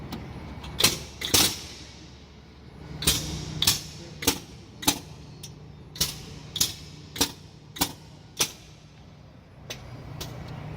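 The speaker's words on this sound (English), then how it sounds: "Hold the brake, push the parking brake in, and then listen for the cuff noise." Truck air brakes releasing air during a brake test, heard as a string of about a dozen short, sharp hissing bursts in an irregular but steady rhythm, close and fairly loud against a quiet background.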